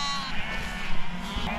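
Wild Irish hill sheep bleat near a farm fence after shearing. A few short, wavering calls carry over faint background noise, with a slight rumble underneath.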